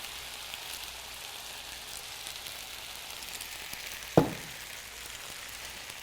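Jarred alfredo sauce gets dumped into a hot pan of fettuccine, a steady soft sizzle running throughout with a single dull plop partway through, nearby and with no voices.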